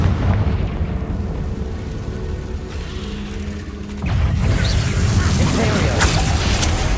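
A Confringo spell blast in Hogwarts Legacy erupts as a loud burst that swells into a sustained fiery rumble mid-clip, over a background of mechanical clanking and combat noise.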